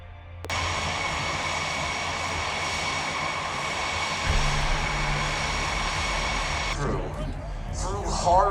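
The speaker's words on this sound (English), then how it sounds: "Flying Blue Angel number 1, the commanding officer and flight leader of the Blue Angels from Skinnyapolis, New York, Commander Alex" Blue Angels jets at the Pikes Peak Regional Airshow make a loud, sustained roar that starts suddenly and holds steady, while an announcer speaks over the sound.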